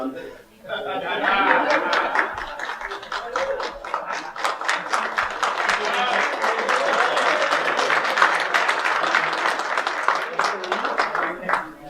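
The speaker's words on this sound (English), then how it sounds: "so after every sentence, please applaud" Audience at an evening event in Detroit clapping steadily for several seconds, dense applause with scattered chuckles and chatter mixed in.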